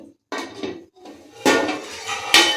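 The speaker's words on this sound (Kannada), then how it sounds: "ಲಿಡ್ ಕ್ಲೋಸ್ ಮಾಡ್ತೀನಿ." A lid set onto a pot of khushka rice masala with curd: several sharp metallic clanks and rattles at close range, the loudest two near the end, with no voices.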